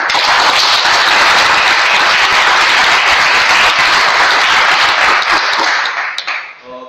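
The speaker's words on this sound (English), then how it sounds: "our speaker and our evaluator definitely deserves a better and bigger round of applause" Loud, sustained applause fills a meeting room as the audience claps for a speaker and an evaluator. The dense clapping holds steady for several seconds, then thins out and fades.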